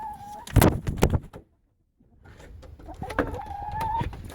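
Chickens cluck and squawk nearby at a feed container, a burst of busy clucking, a brief quiet pause, then more clucking and a drawn-out call.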